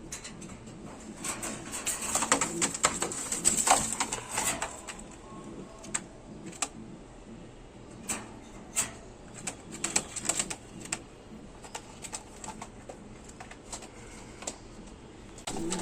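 A male Sirazi pigeon coos in short, soft, intermittent bursts close by, mixed with scattered clicks and rustling from a pigeon loft.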